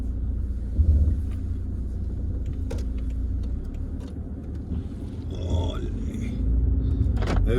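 A large BMW car drives on the road, heard from inside as a continuous low engine and road rumble with occasional small rattles and a brief voice toward the middle.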